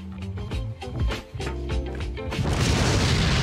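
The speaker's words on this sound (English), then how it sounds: "I'm gonna throw a grenade at this painting." A grenade thrown at a painting in Resident Evil 4 (2005) goes off as a loud, close burst and rumbling crash, with game music and a lingering roar of debris.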